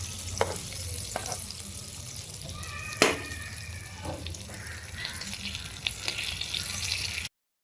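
Stuffed pomfret fish frying in a pan, Malvani-style masala fry, with a steady close sizzle broken by a few sharp clanks and scraping clicks as the fish is turned, ending abruptly.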